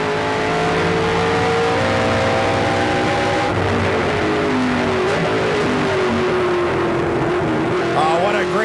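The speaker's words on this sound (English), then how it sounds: "You heard him downshift on the brakes, on the power, or he's working the wheel, turning left." Race car on a street course during a 2008 race broadcast, engine note falling as it downshifts and brakes, loud and continuous, with a commentator talking over it.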